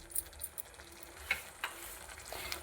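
Nalleru pulp dropped into a hot pan, a faint close sizzle broken by several light stirring clicks and taps, with no voices.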